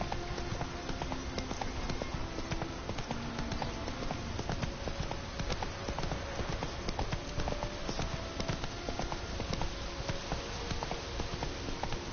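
Galloping horse in a PS4 video game, rapid steady hoofbeats drumming continuously under a dense game soundscape, loud and close throughout.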